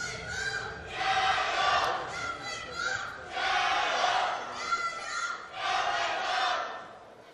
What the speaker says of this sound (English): Just immaculate chanting there from the Chinese team in the crowd.